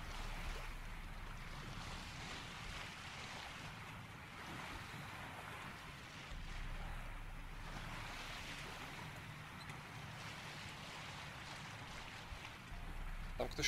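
A boat in The Witcher 3 sails through open sea, with continuous surging waves and wind washing in slow swells, soft and steady throughout.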